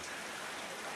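Heavy rain falling steadily, a dense even hiss with no pauses and no voices.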